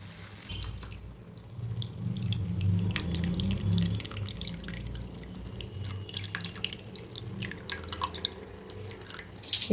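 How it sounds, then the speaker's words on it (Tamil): Tamarind water pours into mango ginger pickle, a steady trickling, splashing stream with small drips, close and continuous for several seconds with no talk. "இப்போ பார்த்தீங்கன்னா புளி தண்ணி ஆட் பண்ணிக்கலாம்."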